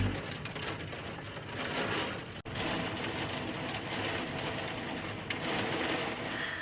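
A sudden torrential downpour roars as dense, steady broadband hiss of heavy rain. It is loud and continuous throughout, with one brief dropout near the middle and no talking.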